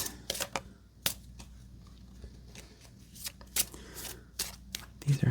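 Playing cards being bent back in a bridge and shuffled during a quiet ASMR solitaire session, heard as soft papery riffles and sharp crisp flicks in irregular close bursts, with faint handling noise between.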